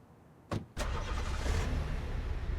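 Car in the Darkest Days zombie survival game starting up with two sharp bursts, then settling into a steady, loud engine drone as it drives.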